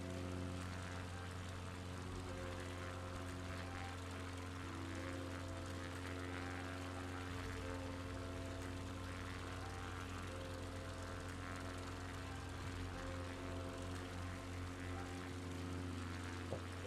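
Bush plane propeller engine held at full power for takeoff in Microsoft Flight Simulator 2020, a steady droning hum with strong harmonic tones, constant and unbroken for the whole stretch, no voices.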